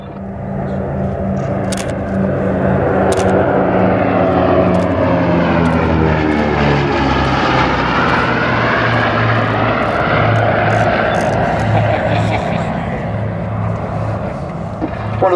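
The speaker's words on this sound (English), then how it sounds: "Here comes FIFI, the only flying B-29 in the world." Boeing B-29 Superfortress "FIFI" passing overhead with its four piston engines and propellers, a loud sustained drone that swells and sweeps in pitch as the bomber flies by, with no talk.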